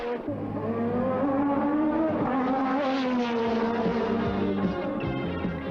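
A 1983 Lotus 93T-Renault turbo Formula 1 car on test at Paul Ricard screams past with a loud, continuous high-revving engine whine, its pitch shifting as it passes close by, with no talk.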